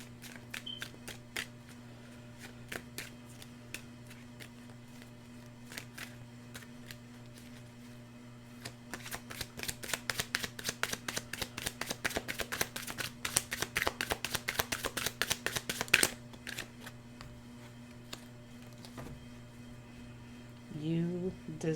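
Tarot cards being shuffled while drawing a clarifier card, soft riffling and flicking that grows denser and louder through the middle, over a steady low background hum.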